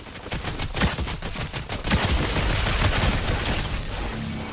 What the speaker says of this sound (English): Bullets coming from up high.